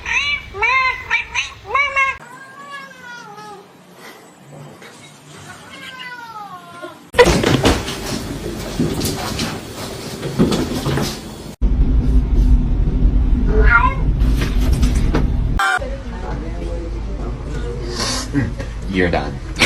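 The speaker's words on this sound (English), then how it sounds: "Look at this little kitten." A little kitten gives a run of high, wavering meows up close, followed by louder, noisy stretches with people talking and household rumble.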